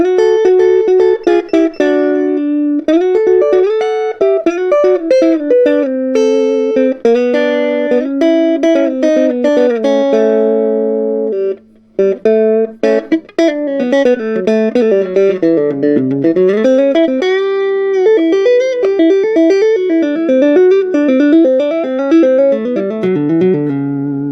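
An electric guitar plays through a Selmer Little Giant amp with a clean tone, loud and close, in fast tapped and legato runs with full sustained notes and bending pitch slides and no voices.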